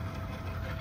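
An electric kids' balance bike motor running under throttle makes a brief, low, steady hum at modest volume, heard alone for under a second.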